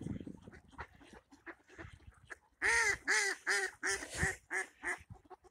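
A cluster of ducks quacks close by in quick, loud bursts, a run of about eight calls after a quieter stretch of faint rustling and distant chatter.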